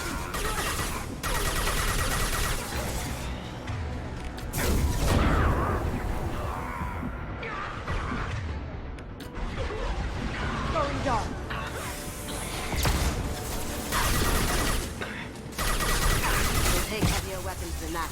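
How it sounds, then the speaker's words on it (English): Busy sci-fi combat from Mass Effect Legendary Edition, with gunfire crackling and clattering among mechanical noises and impacts, while characters talk over the fighting throughout. "we got people shooting at us"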